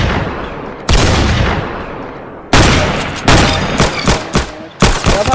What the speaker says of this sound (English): I love shotguns